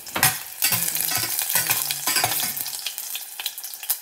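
Food cooking in a pan for a Filipino ulam dish, with loud bursts of sizzling and repeated stirring scrapes and utensil knocks coming in irregular waves.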